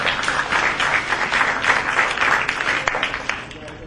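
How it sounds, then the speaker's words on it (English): Students in a high school audience applaud at an oratorical contest, a dense, steady patter of clapping that holds at even strength for a few seconds before easing slightly. "the students, give yourself an applause."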